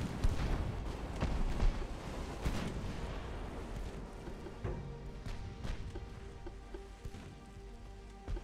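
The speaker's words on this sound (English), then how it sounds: "I do like all the turrets firing on this ship." Battleship gun turrets firing in Ultimate Admiral Dreadnoughts, a rapid irregular string of booming shots rolling into one another over a dense rumbling din, loudest at the start and then thinning into scattered distant thuds.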